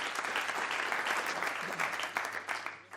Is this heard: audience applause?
yes